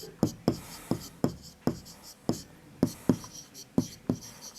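Chalk tapping and scraping on a classroom board as a teacher writes a fraction, about a dozen sharp knocks in an uneven rhythm, close and clear with no talk.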